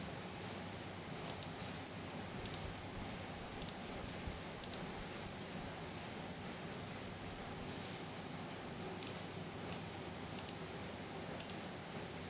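A computer mouse gives a sparse series of light, sharp right-button clicks, about eight to ten spaced irregularly over a faint steady hiss, close to the microphone and with no talk.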